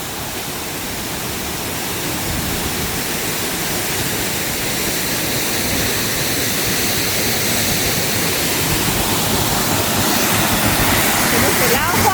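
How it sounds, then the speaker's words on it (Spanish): Waterfall near Pucón, Chile, heard from its base as a steady, loud, broadband rush of falling water that builds slightly and continues without a break. "acá puedes llegar hasta la misma base de la caída de agua"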